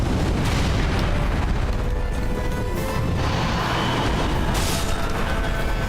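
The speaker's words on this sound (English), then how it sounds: "Whoa, you can do an airborne fire breathe?" A dragon-like fire breath attack unleashed from the air in Dark Souls 3 roars as a continuous loud, dense rumbling blast that fills the whole span, with a few brighter surges rising over the steady roar.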